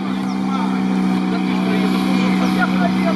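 A VAZ-2101 stuck off-road with its engine revving hard, a steady loud droning roar held throughout under outdoor commotion.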